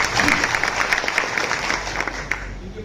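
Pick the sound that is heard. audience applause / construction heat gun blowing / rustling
audience applause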